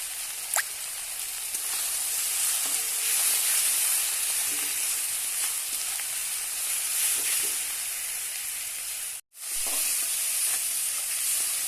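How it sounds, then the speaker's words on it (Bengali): Turmeric, salt and Kashmiri chili powder fry in a pan for a taro and katla fish dish. The sizzle is close, steady and hissing, with a sharp momentary dropout near the end. "ভেজে নেওয়া হয়ে গেছে সব মশলাগুলো।"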